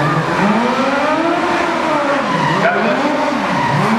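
A Disney stunt show pursuit car drifts hard, tires squealing in long wavering swoops that rise and fall continuously over the loud, close engine, with a brief spoken remark.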